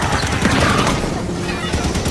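Gunfire from Halo 5: Guardians, with a dense, continuous crackle of shots and blasts filling the whole stretch, loud and close, mixed with game sound.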